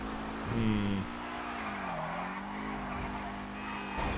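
A fully upgraded Rapid GT Classic sports car in GTA 5 Online drives with a steady engine drone as its tires squeal through a long continuous skid, the tone bending up and down as it slides.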